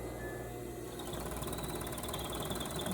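A serger sewing machine stitches along a fabric seam, making a quiet, steady mechanical whir with a fine rapid rhythm that becomes slightly busier partway through.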